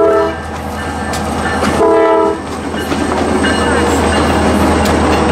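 A train rumbles past with a loud horn blast in the middle, steady rolling noise and faint clacking of wheels throughout.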